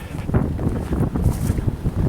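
Gusty wind buffets the microphone in low rumbling bursts, continuous and close, with no voices.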